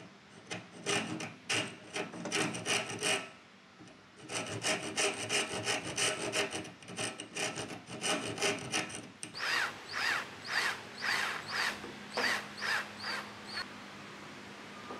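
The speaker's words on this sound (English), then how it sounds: "I'm cutting up an old kitchen spoon" An old kitchen spoon is being cut with a saw in strong, rhythmic back-and-forth strokes, close and loud, in three bursts separated by short pauses.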